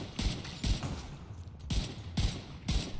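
Gunfire in the video game The Division 2: five heavy, booming shots spaced roughly half a second apart over a steady background hum, with no voices.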